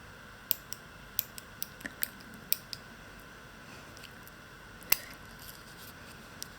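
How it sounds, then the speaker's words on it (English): Scissors snip through thick leather for a bead-embroidered ring, about a dozen crisp, quiet cuts in an irregular rhythm, with one louder snip near the end, close up in a quiet room. "You might need to cut twice like me if your leather is thicker."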